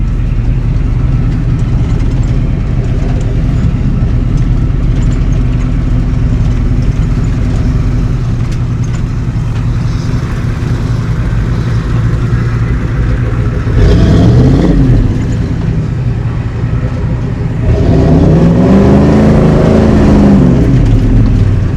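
A 7.3 IDI diesel truck engine drives in second gear, a loud, steady, low rumbling drone that swells twice as the engine revs up, heard up close with no talk.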